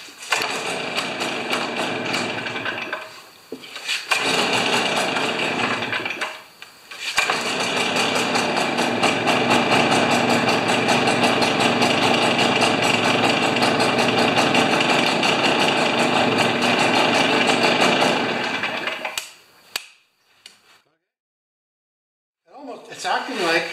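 A Stihl BR430 backpack leaf blower engine, behaving like it has a plugged muffler, runs loud and steady with a rough, buzzing drone, stumbling briefly twice, then cutting out near the end before a short restart.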